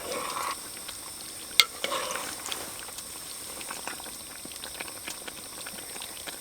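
Peppers cooking on a homemade barrel stove inside a hot tent get a short stir, with a soft bubbling simmer, a sharp clack of the utensil early on, then quiet scraping and light crackle.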